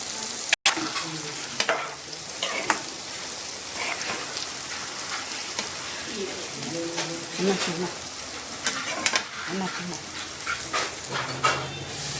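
Mutton keema frying in a pan with chili powder, turmeric and salt, a continuous crackling sizzle with stirring scrapes and occasional clanks of the spoon.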